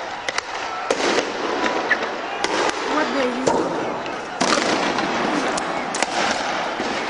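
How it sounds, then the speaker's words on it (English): Concussion grenades, tear gas grenades and rubber bullets fired by security forces breaking up a protest in Bahrain: scattered sharp bangs and pops, some loud and near, others distant, over a rumbling background with voices. "Those are concussion grenades, tear gas grenades, and they're firing rubber bullets."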